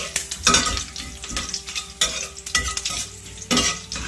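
Onions, chilies and curry leaves crackle and pop in hot oil in a pan while a utensil scrapes and stirs them in several bursts, close and fairly loud, with no talking.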